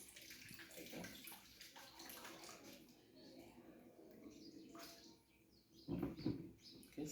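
Hands are washed under a running tap in a clinical setting before a patient examination, a steady soft water stream with splashing that swells louder toward the end; faint voices murmur underneath.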